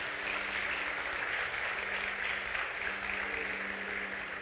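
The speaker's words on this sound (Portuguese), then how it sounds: "pode aplaudir Jesus" Church congregation applauding during a Sunday sermon, a steady, dense wash of clapping that fills the room evenly and continuously from start to finish, with no voices standing out.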